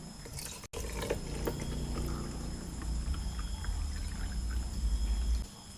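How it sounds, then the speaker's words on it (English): Steady gurgling of liquid being poured, with a continuous low rush and splashing that runs for several seconds before stopping abruptly. "Pour into bottle A."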